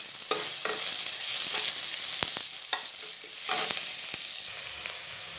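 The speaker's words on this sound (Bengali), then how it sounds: "এবার তেলটার মধ্যে দিয়ে দেবো পেঁয়াজ কুচি" Chopped onions fry in hot oil with a bright, continuous sizzle, broken by a few scraping stirs and sharp ladle taps against the pan, heard up close.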